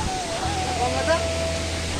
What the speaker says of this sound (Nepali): खोला चाहिँ यही हो